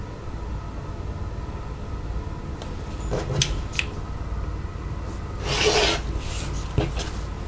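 Quilt fabric is cut into 2.5 inch strips with faint rasping cuts and a louder scraping swipe, quiet and close over a steady room hiss.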